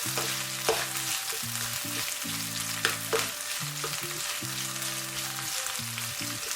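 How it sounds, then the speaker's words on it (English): Rice, vegetables, gizzards and prawns frying together in a pot for Cameroonian fried rice, giving a constant close sizzle with occasional stirring scrapes and a steady tonal hum running beneath, no voices. "Guys, we're going to divide our rice into 3 portions and our vegetables and gizzards and prawns into 3 portions and fry."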